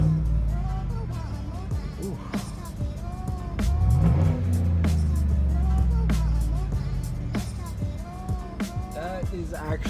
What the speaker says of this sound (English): That is actually like not bad for a Tahoe. V8 sound pretty good.